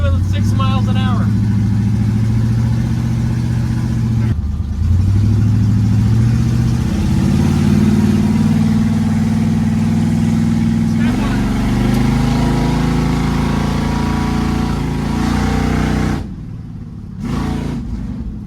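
An old 1970s junkyard car drives slowly, its steady mid-pitched engine drone running continuously up close, with people talking over it throughout.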